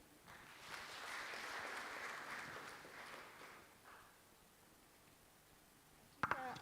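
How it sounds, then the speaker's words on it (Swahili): Faint audience applause in a Tanzanian judiciary session, a soft stretch of clapping that swells and fades, followed by quiet and a couple of sharp clicks near the end. "Tuwapigie makofi."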